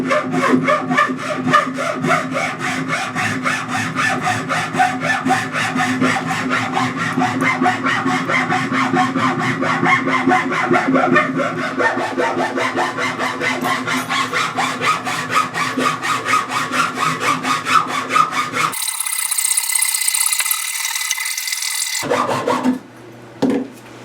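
A hand saw cuts through wood during removal of a bathroom vanity, with a long run of close, rapid back-and-forth rasping strokes and then a short, brighter scrape near the end.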